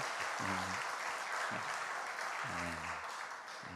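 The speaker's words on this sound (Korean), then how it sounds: "근데 이렇게 박수를 받아온 건 처음인 것 같아요." A church congregation applauds at a revival gathering, a broad, even wash of clapping from the room heard steadily throughout, with a voice speaking briefly over it.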